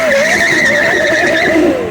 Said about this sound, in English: Burnout number 6, 7.